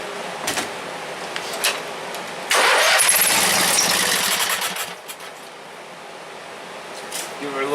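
A 16 or 18 hp Briggs and Stratton opposed-twin engine cranks with a rapid mechanical whirring, catches briefly with a louder burst, then winds down, with voices talking nearby.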